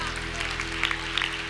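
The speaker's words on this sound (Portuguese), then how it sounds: "vamos aplaudir ao Senhor" A congregation claps together at a worship service, a short dense burst of applause over a sustained steady tone.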